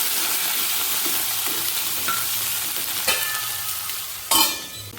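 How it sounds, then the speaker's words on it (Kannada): Garlic and green chili paste sizzles in a hot oiled pan for methi paratha, a steady crackling hiss with occasional clinks and scraping stirs of a spatula. "ಬೆಳ್ಳುಳ್ಳಿ ಹಸಿಮೆಣಸಿನ್ಕಾಯಿ ಪೇಸ್ಟ್ ಮಾಡ್ಕೊಂಡಿದ್ದೀನಲ್ಲ ಅದನ್ನು ಹಾಕ್ತಾಯಿದ್ದೀನಿ"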